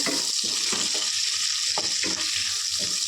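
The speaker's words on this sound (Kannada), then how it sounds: "ಈ ಖಾರ ಅರಿಶಿನ ಪೌಡರ್ ಮತ್ತು ಧನಿಯಾ ಪೌಡರ್ನ ಎಣ್ಣೆಲೇ ಚೆನ್ನಾಗಿ ಫ್ರೈ ಮಾಡ್ಕೋಬೇಕು" Chili, turmeric and coriander powder fry in oil for a fish curry, with a continuous bright sizzle and a few soft stirring scrapes close by, and no talk.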